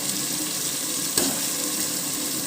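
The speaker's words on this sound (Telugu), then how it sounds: "ఒక 5 నిమిషాలు ఆయిల్లో మగ్గనిద్దాం టమాటాలన్నీ" Tomatoes and mixed vegetables with ginger-garlic paste sizzle steadily in hot oil in a pan, a close, continuous hissing fry with a brief stir near the middle and no talk.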